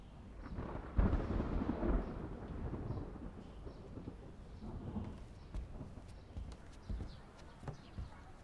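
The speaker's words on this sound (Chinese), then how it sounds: "这忽然又打雷了。" A sudden roll of thunder breaks over a sunny sky, rumbling low and heavy, then fading into a quieter, distant grumble with scattered faint clatters and no talking.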